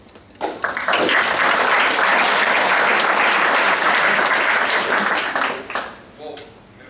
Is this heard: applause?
yes